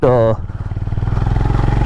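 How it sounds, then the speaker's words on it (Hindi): Honda Highness CB 350 motorcycle pulling in second gear on an off-road ride, a steady low, pulsing engine thrum close up, following a brief burst of sound at the start. "बाइक में टॉर्क बहुत अच्छा है, लो एंड, दूसरी गियर पे हम चल रहे हैं"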